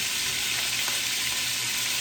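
Oxtail sizzles as it browns in a hot pot for a Jamaican dish, a steady close hiss of frying with no voices over it.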